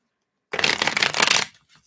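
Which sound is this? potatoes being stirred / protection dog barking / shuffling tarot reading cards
shuffling tarot reading cards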